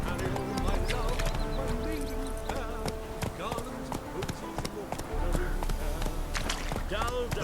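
Horse hooves clip-clop in a steady, rhythmic trot in The Witcher 3: Hearts of Stone, heard alongside someone talking and other in-game sounds.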